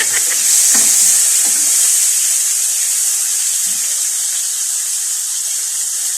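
A chicken and mushroom dish is stirred in a hot pan, giving a loud, continuous sizzle of frying with a few scrapes of the spoon, close up and with no talking.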